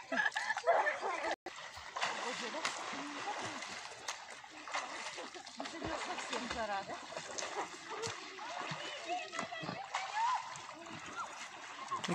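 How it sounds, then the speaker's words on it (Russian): Hands splashing in river water on a hot summer day in the Tver region, irregular close splashes and sloshing, with people's voices mixed in nearby. "Руки на воде."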